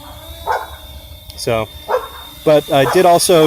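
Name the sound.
dogs barking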